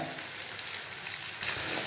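Pieces of rupchanda pomfret fish fry in a hot pan for a bhuna curry, producing a dense, close sizzle that swells noticeably louder partway through and stays intense.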